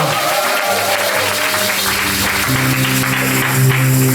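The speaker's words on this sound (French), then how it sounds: "Est-ce qu'on peut acclamer pour le Seigneur encore?" A church congregation at a gospel service breaks into sustained, dense applause that fills the room. Musical tones from instruments sit underneath and grow steadier toward the end.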